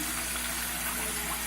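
Tap water runs steadily into a sink while rice is being washed, a continuous soft gushing and splashing hiss with no pauses and no voices.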